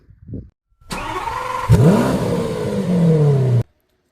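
A Royal Enfield Himalayan motorcycle engine cranks and catches, then idles and revs briefly, close and loud for a few seconds before cutting off, with no voices.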